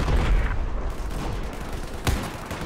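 Battlefield 4 gunfire and explosions in the Gulf of Oman desert map, with a tank nearby, forming a dense rumbling battle din with one sharp, loud crack standing out near the end.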